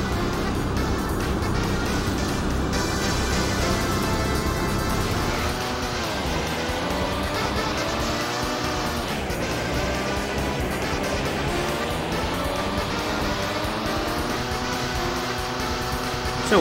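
The Gale Racer car in the arcade racing game Rad Mobile drives continuously, a synthesized engine drone with rising and falling pitch sweeps as it shifts and turns, alone without talk.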